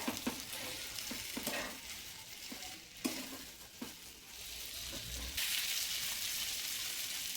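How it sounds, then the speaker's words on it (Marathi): Marinated paneer tikka pieces fry in a pan with a steady, close hiss and crackle, punctuated by a few louder spatters and stirring knocks, with the sizzle growing brighter near the end. "पनीर टिक्का रेसिपीमध्ये पनीर हे मॅरिनेट झाल्यानंतर फ्राय करणं फार महत्त्वाचं असतं."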